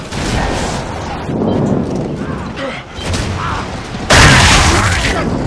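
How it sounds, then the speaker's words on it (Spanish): Booming gunfire and explosions from the video game Gears of War 3, a dense continuous barrage with a sharp loud burst near the end. "¡Un disparo, una baja!"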